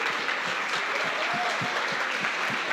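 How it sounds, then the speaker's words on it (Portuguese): A church congregation breaks into sustained applause, many hands clapping in a full, continuous wash, with a few sharper individual claps standing out close by. "Eu acho que as pessoas merecem um aplauso de nossa parte"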